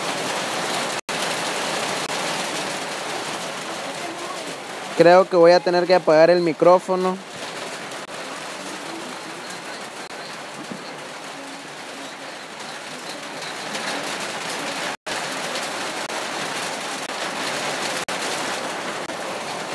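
Rain falls steadily during a live-streamed semifinal match, a continuous hiss throughout, with a voice speaking briefly over it partway through.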